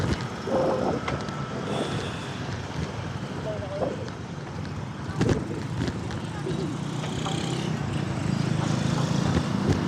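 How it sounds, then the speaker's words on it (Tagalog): Strong wind buffets the microphone constantly over a low road rumble during a ride in Tagbilaran while people talk underneath. "Sobrang hangin talaga"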